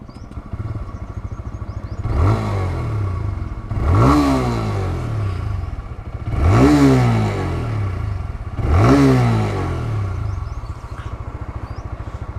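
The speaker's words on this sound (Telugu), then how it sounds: "సో ఒకసారి బైక్ అయితే స్టార్ట్ చేద్దాం." A TVS Raider 125 motorcycle engine runs at a close, steady idle, with four sharp throttle blips swelling and falling back in a regular rhythm, no voices over it.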